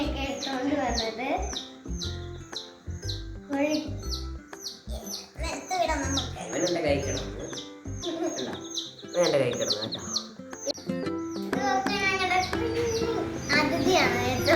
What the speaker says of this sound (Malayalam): ഞങ്ങൾക്ക് നേരം പോക്കായതുകൊണ്ടാണ് ഈ കോഴിക്കുഞ്ഞിനെയൊക്കെ എടുത്തോണ്ട് വന്നത്.